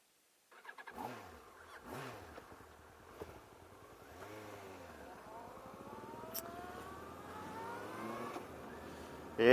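A Yamaha R1 sport motorcycle starts off and rides, its engine revving up and down through several rising pulls, close and fairly loud, with a brief clunk near the end.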